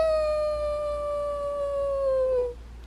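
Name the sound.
dog howling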